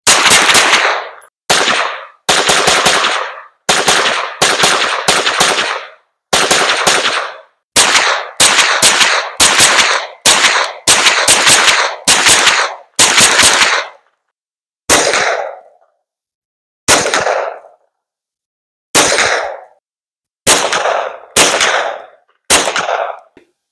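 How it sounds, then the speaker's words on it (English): Ruger PC9 9mm carbine firing at an outdoor range, loud sharp reports in quick strings and single shots separated by short pauses, close to the shooter, with no talk. "Today will be our first range outing with the new Ruger PC9 9mm carbine"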